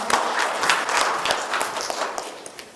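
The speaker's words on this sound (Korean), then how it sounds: "큰 박수로 맞이해주시기 바랍니다." An audience at a university lifelong vocational education forum claps to welcome a presenter, a brisk burst of applause from many hands that starts full and gradually thins out, with no speech over it.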